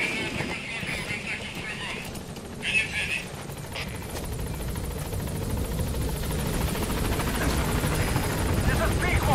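Pequod helicopter arriving at a landing zone in Metal Gear Solid 5: a continuous, steady rotor drone that swells slightly as it approaches, with radio voices talking over it.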